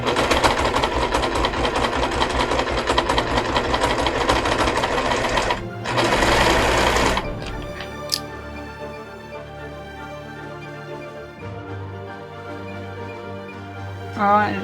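A sewing machine stitches cosplay fabric in rapid steady bursts, running hard for several seconds, pausing, then resuming more slowly, with a person speaking intermittently nearby.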